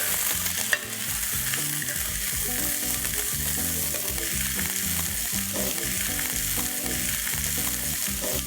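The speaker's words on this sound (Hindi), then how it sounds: "अब इसमें डालेंगे फ्रांस बीन, 1 गाजर, थोड़े से मटर। इसे अच्छे से चला लेंगे।" Chopped onion, French beans, carrot and peas sizzle in a hot pan while a spoon scrapes and stirs them in repeated strokes, a steady close frying crackle throughout.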